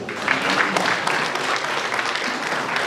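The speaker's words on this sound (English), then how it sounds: "Let's give him a round of applause." Applause from an audience at a football association gathering, dense clapping throughout a short stretch, loud and close with a few sharper claps rising above the wash.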